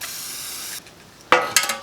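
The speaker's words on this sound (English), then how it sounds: "And something that I like to use is this Teflon spray lube" A can of Teflon spray lube hisses in a steady, loud burst onto the recoil spring of a Briggs & Stratton engine, then stops, followed by two short, sharp spurts.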